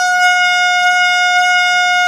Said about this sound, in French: Tu sais, avec le temps, je vais finir par m'habituer à ce klaxon.